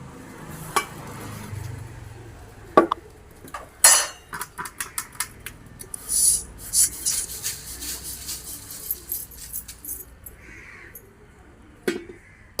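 Half a kilo of cumin seeds dry-roasting in a pan for homemade masala chilli powder, with a metal spoon scraping and clinking against the pan in irregular bursts and a faint sizzle between strokes.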